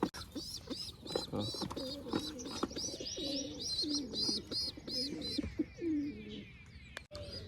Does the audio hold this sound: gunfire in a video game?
no